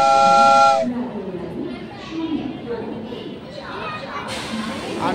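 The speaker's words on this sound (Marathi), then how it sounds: "आमची ट्रेन आली" A train's loud steam-style whistle blows briefly as it pulls into a crowded station platform, then fades into the hiss and rumble of the arriving train under a busy crowd chattering all around.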